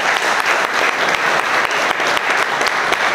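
Close, loud applause from an audience at a waste-management assembly, a full, steady roar of clapping with sharp individual claps standing out throughout.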